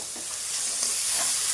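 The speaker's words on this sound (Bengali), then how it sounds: "এইভাবে ধীরে ধীরে কিন্তু নেড়ে চেড়ে কিছু সময় কুক করলেই চিনিটা গলতে শুরু করবে।" Sugar and salt cook dry in a pan with no water while being stirred, giving a steady close hiss and sizzle with soft scraping of the spoon, no voices.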